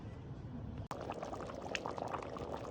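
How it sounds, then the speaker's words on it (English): Creamy Italian sausage and potato soup simmers in a pot with steady close bubbling and soft popping, a single sharp click partway through, and no talk. "just let this simmer until the vegetables are cooked"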